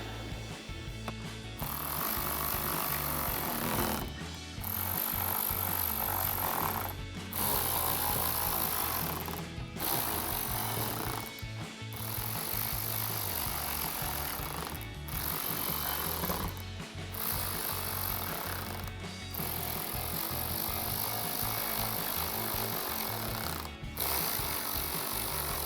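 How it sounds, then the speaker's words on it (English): A 7mm socket tightening screws on a front splitter of a 2014-2019 Corvette, a continuous close ratcheting whir broken by short pauses between each screw, loud and alone without speech. "take our 7mm socket and tighten down all of our screws"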